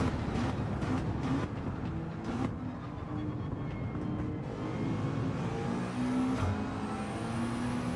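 A McLaren race car in Gran Turismo 7 drives with a steady, droning engine note under a continuous roar of road and wind noise, with no talking.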